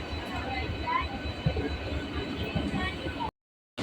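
A local train rolls slowly into Bardhaman Junction on the Chord line, a steady low rumble and rattle of carriages filling the space before cutting off abruptly near the end.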